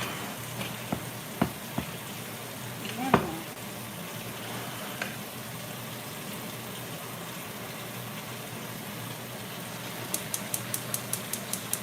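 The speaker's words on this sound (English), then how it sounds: "it's frying at a good temp" Chicken frying in hot oil on a stove makes a continuous, fairly quiet sizzle with a few faint clicks and knocks, and a short run of rapid beeps near the end.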